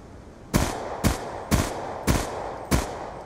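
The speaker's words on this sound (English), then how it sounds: "There you go, 5 shots without an FMJ to kill someone on hardcore mode." Five heavy gunshots from a rifle in Black Ops 2 hardcore mode, fired one at a time about half a second apart. Each is a loud, sharp crack with a short tail, over a low steady background hum.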